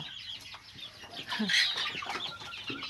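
Bantam chickens near a rural Thai home give a cluster of close, fairly loud clucks and squawks, with a short burst of busier fowl calls in the middle over steady outdoor background.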